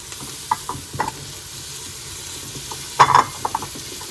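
Mint and coriander leaves are sautéed in a pan while preparing mutton biryani, giving a low, steady frying hiss broken by a few sharp spatula scrapes and clinks, close by and with no talk.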